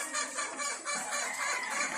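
Chickens clucking at a gamefarm where stags are raised, a steady busy chorus of overlapping clucks and calls at close to moderate distance, no voices.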